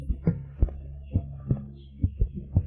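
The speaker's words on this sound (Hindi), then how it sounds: "दिल की धड़कन इतनी तेज" A fast heartbeat sound effect of deep, muffled thumps in quick paired beats, loud and close, repeating steadily with nothing else over it.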